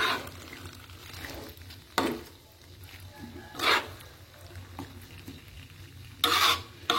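Rendang spice paste stirred and fried in a pan, a quiet simmering sizzle under repeated scraping strokes of a spoon, with several louder stirring bursts spaced a second or two apart.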